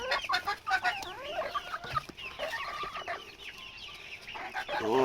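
Chickens, including a young blue hen, cluck and chatter in a cluster of short, close, fairly loud calls, one overlapping another, with no voices heard.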